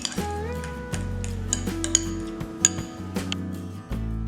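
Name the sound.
stirring banana and honey face pack in a bowl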